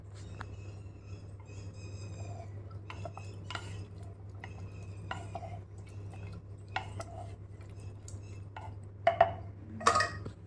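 Boiled chickpeas stirred in a cooking pot, with scattered scrapes and clinks of a utensil against metal over a steady low hum, ending in a couple of sharper knocks as the lid goes on.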